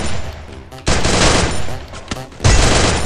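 Rapid bursts of MP14 submachine gun fire ring out in the Free Fire video game, loud and close, with short pauses between volleys and a player voice now and then.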